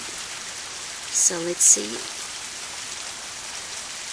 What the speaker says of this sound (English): Rain, stop. Rain, stop raining.